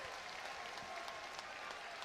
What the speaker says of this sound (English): The people are applauding.